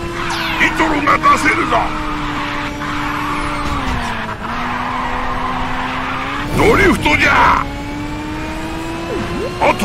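Tires squeal as a car drifts in a racing video game, with a long screeching slide over a steady engine drone and a second burst of squealing later, while a voice talks over the game.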